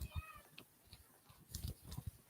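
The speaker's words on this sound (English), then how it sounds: "There's a cat here" A domestic cat meows a few times at close range in a quiet indoor room during a lockdown live stream, each cry short and fairly soft, with small pauses between them.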